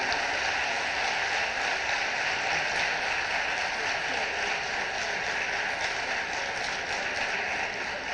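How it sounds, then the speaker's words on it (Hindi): An audience at a National Ayurveda Day event claps in sustained, dense applause for about eight seconds, steady and full-bodied like a large crowd, with no break in the sound. "जब आपके तालियों के आनंद आ रहा तो थोड़ा सा और हाथ लाल कर लो"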